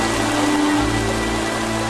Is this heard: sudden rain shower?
yes